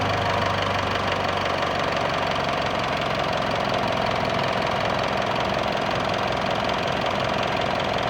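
A 2015 Mitsubishi Montero engine runs steadily at idle, a loud, even mechanical drone with a knocking, vibrating texture throughout and no talk.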